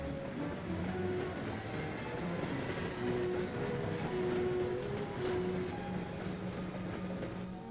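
Freight train carrying military cargo to Norfolk rumbles past at a steady, moderate distance, a continuous rolling roar with faint rail squeals and clatter and no voices.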